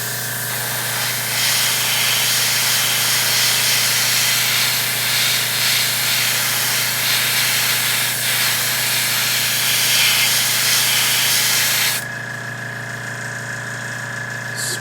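An airbrush sprays paint onto an Eldar Wraithknight sword model in a continuous close hiss. A steady hum runs under it, and the spray cuts off near the end.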